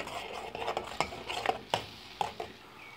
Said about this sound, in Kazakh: Оны жақсылап араластырамыз.